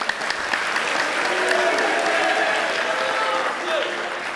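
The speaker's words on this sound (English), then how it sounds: "So a round of applause for Seeley." Steady applause from a crowd fills the whole stretch, dense and sustained at a fairly even level, with a faint voice audible beneath it.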